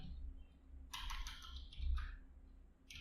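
Typing on a computer keyboard, a short burst of soft, quick key clicks followed by a couple more isolated taps, quiet and close under a low background hum.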